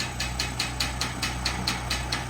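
A farm tractor engine idles steadily with a low rumble and a rhythmic ticking knock, heard close and fairly quiet with no talk.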